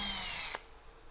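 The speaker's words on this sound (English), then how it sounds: "You're going to take your drill with your 9/64 drill bit" A power drill fitted with a 9/64 bit bores a hole while fitting a Marinco plate to a Bonafide PWR 129 kayak, a loud steady whine that stops abruptly partway through, leaving quiet room tone.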